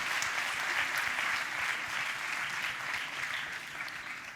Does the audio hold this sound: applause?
yes